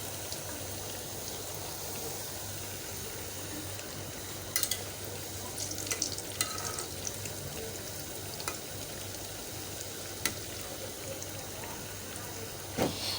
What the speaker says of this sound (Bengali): এক পাশটা মোটামুটি ভাজা হলে আরেক পাশটা করে দিতে হবে